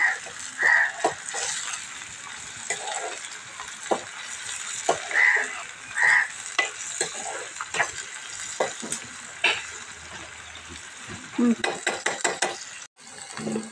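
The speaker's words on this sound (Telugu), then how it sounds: "ఫ్రై అయితే చేస్తున్నానండి చికెన్ ఫ్రై." Chicken frying with sliced onions in a pan, with a spoon stirring and scraping through the mix in bursts, clinking against metal over a steady, moderately loud sizzle up close.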